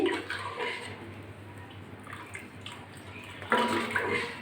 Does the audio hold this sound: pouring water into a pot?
yes